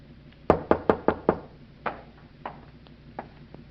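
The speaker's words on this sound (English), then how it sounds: "waited for your knock on my door" Knocking on a door: a quick run of five loud raps, a pause, then several softer, more spaced knocks, heard alone without speech.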